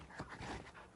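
A dog panting in The Witcher 3, quick soft breaths repeating in a steady rhythm, close and fairly quiet with no talk.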